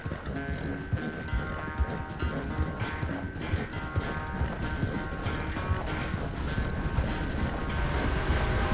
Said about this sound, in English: Uh-oh, my horse is getting tired so easily.